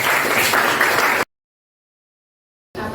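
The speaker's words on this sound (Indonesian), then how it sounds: "silakan berikan tepuk tangan dulu untuk mereka" A classroom of students claps for the top three ranked groups, a dense burst of applause for just over a second, then silence and a short return of sound.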